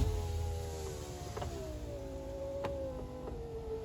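A truck's power window motor whirs as the glass travels inside the door after a towing mirror install, with a wavering tone and a few scraping catches as it seems to snag on wiring.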